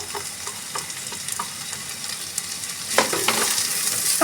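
Chopped onions and finely cut tomatoes sizzling in a pan, a steady hiss of frying under intermittent stirring and scraping that grows busier and louder toward the end, with no voices.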